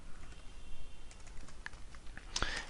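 Keys clatter on a computer keyboard as PHP code is typed, a light scattered patter of keystrokes with a sharper cluster of clicks near the end, with no talking.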